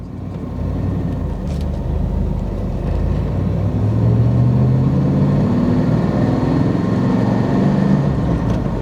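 A 1997 Chevrolet Camaro SS hardtop with a six-speed manual accelerates in first gear, its engine giving a steady, close, deep rumble that rises gradually in pitch, with no talking over it.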